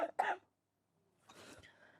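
A person gives a short double cough, two close, sharp bursts, followed by a quiet pause and some faint shuffling and breathing.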